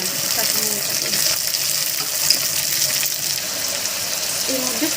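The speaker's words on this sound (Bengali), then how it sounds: "এর মধ্যে সামান্য একটু জল দিয়ে দিলাম" Water is poured into a sizzling mustard, poppy-seed and cashew paste with green chilli frying in hot oil for prawn bhapa. A continuous close hiss and bubbling fill the whole stretch, with no talking.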